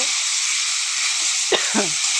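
Spices fry in a pan with a constant bright sizzle, and a couple of quick scraping stirs come in near the end.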